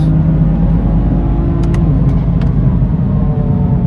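A tuned BMW M3 or M4 engine roars loudly and steadily at full throttle and high revs, a continuous deep rumble with no talking.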